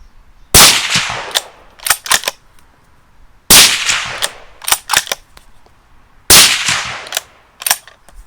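A Bergara Crest B14 Mountain Rifle in .308 fires three loud, sharp shots spaced a few seconds apart, each followed by a short echoing tail and brief clattering, outdoors.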